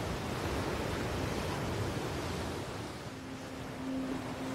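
Sea waves break and wash over a pebble ridge on an island shore. A continuous, broad roar of surf carries throughout at moderate level, with a faint low tone near the end and no voices.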